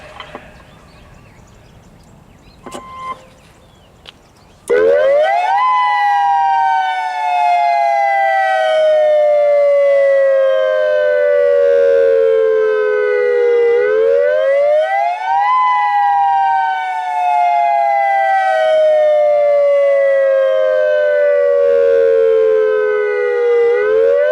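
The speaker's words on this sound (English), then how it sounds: "Attack siren." A Modulator 6024B civil defense attack siren sounds a loud outdoor test at a district park, its wailing tone rising and falling in long repeated sweeps after a brief quieter moment of distant noise.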